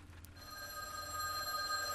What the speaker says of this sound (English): The telephone continued its incessant ringing.